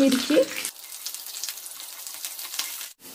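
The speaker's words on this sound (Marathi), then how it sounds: "मिरची आता व्यवस्थित परतून झाली आहे" Chopped green chillies fry in hot oil with mustard seeds and curry leaves in a pan, a close, steady sizzle that briefly swells louder at the start, then settles into a quieter crackle with no talk.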